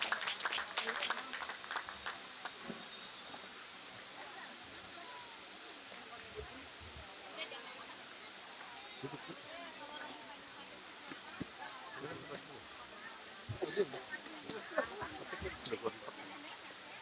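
Applause for a district head at a National Children's Day event breaks out in a scattered, fairly faint patter amid crowd babble, swelling in bursts early on and again near the end.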